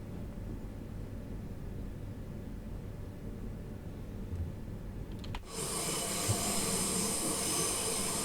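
A low rumbling ride on a Class 377 train in Train Sim World 5 gives way to a sudden loud, sustained high-pitched metallic screech of wheel flanges squealing on a curve, with no voices.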